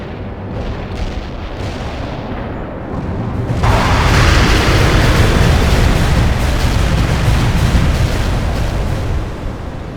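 Artillery barrage explosions in the wartime strategy game World in Conflict, with a low rumbling boom building and then swelling into a dense, sustained roar of overlapping blasts that holds loud for several seconds.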